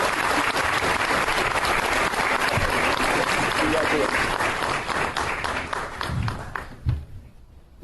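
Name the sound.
audience applause for hall of fame inductee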